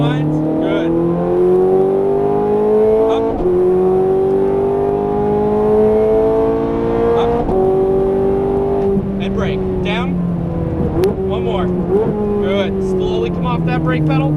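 Ferrari 430 Scuderia accelerating on a track, its engine note rising steadily through the revs with gear-change breaks, loud and close throughout, while an instructor talks over the engine.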